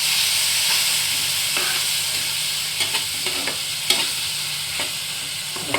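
Masala gravy with soybean and chhola dal sautéing in a pan, a loud steady sizzle punctuated by repeated spoon scrapes and clacks against the pan, without any talking.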